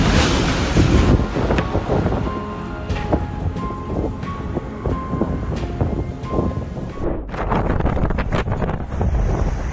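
Strong wind buffets the microphone at a construction site with a tower crane, a constant heavy roar with gusty rumble and scattered clanks and creaks, the wind noise briefly dropping near the end.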